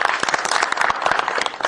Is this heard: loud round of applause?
yes